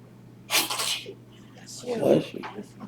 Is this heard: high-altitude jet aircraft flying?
no